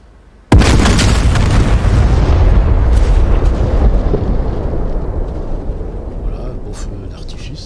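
Laser-guided rockets from an A-10 hit their target in the DCS flight simulator. A sudden loud blast is followed by a long, deep rumbling roar that slowly fades, with faint crackles near the end.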